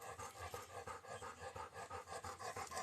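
A dog pants close by in quick, steady rhythmic breaths that repeat evenly, each huff distinct and fairly soft, with no talking.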